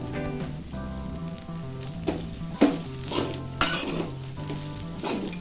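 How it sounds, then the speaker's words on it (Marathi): Sabudana khichdi with peanut powder is stirred in a pan over a low flame, a gentle sizzle broken by several sharp scrapes and clinks of a spoon against the pan, with soft music underneath. "बारीक गॅसवरच परतायची खिचडी आता त्यामध्ये शेंगदाण्याचा पूड घालायचा आहे"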